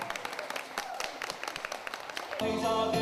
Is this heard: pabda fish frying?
no